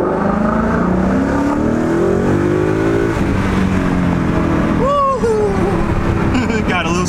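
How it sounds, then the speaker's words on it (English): A Ford Mustang's exhaust rumbles loudly and steadily from the cabin while driving past a building, with rising revs and pitch sweeps; people talk briefly over it. "you get a nice little reflection of your exhaust"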